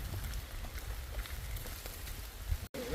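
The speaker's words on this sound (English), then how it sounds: "Rainy." Steady rain patters on the surroundings during a hike in the rainy North Pacific, a dense wash of drops heard close and continuous, with a brief dropout near the end.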